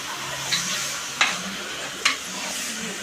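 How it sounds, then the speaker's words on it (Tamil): Mutton fries in masala in a pot with a continuous sizzling hiss, broken by a few sharp stirring scrapes at regular intervals, close and fairly loud. "மட்டன் நல்லா அந்த மசாலாவிலே வதங்கட்டும்."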